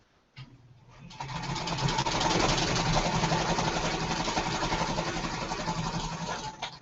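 Sewing machine running steadily while stitching quilt pieces together, a continuous close whirring hum after a short start, with no talking.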